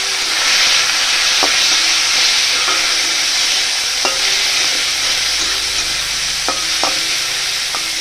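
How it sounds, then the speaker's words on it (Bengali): Prawns fry in hot oil in a wok, giving a loud continuous sizzle with repeated sharp scraping clicks of stirring, no voices present. "চিংড়ি মাছটা কড়াইতে গরম তেল দিয়েছি, ভেজে নেব চিংড়ি মাছটা"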